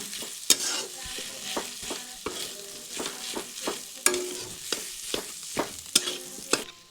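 A spoon stirring boiled potatoes with garam masala in a pan, giving repeated sharp scraping clacks at an uneven rhythm over a faint sizzle, close and fairly loud, with no talk.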